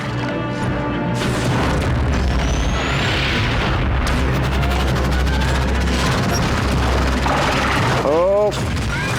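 Missile fire and explosions in the Metroid Prime: Federation Force video game, loud continuous booming blasts and crashes with whooshing sweeps, dense and layered, with a voice talking over part of it.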